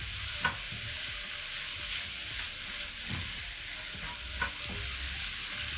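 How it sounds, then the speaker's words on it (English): Carrots sizzle and fry in a pan with a steady hiss, broken by a few soft scrapes and clacks of a utensil stirring them through. "Stir in the carrots."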